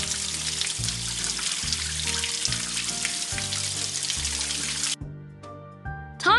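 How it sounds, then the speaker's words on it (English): Game water streaming over a cartoon pup's soapy paws, a steady hissing rinse under bright looping music, cutting off near the end before a short chime. "Let's rinse the bubbles away."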